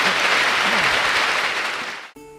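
A church congregation breaks into loud, dense applause during a Catholic priest's sermon, a full crowd clapping close and steady before it cuts off abruptly into a short musical tone.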